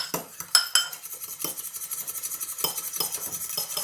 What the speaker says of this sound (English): And I'll give that a bit of a mix.